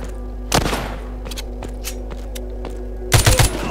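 Gunfire in the zombie shooter game The Walking Zombie 2: two bursts of rapid, fairly loud shots, one near the start and another near the end, separated by quieter scattered thuds and clicks.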